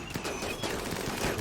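Gunshots fire in the Rimworld video game, a faint rapid clatter of repeated shots close together with no talk.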